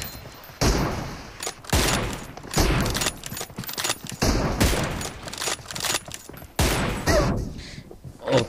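Gunfire rings out in PUBG Mobile, with around eight sharp, loud shots coming at irregular intervals of about a second, each one dying away in a short echoing tail before the next.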